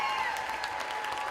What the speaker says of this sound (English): Let's clap for the third graders right here.